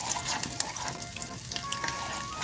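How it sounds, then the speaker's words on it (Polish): Half-raw onion fries in fat in a pan with a dense, continuous sizzle and scattered pops close by, and no one speaks. "Cebulka się musi troszkę przyrumienić. Bo jeszcze jest pół surowa."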